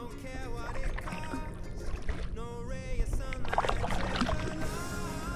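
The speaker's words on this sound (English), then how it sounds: "maybe just like sit and paddle" Paddling on a lake at an island park camp, steady splashing and water swirl from the paddle close by, with wind and outdoor noise throughout.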